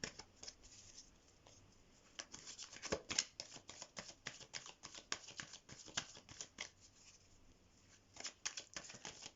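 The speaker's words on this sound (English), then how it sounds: "So let's shuffle the cards." Tarot cards are shuffled close up in quick, crisp riffling bursts, with soft rustling and flicking of the deck between them and almost no talking.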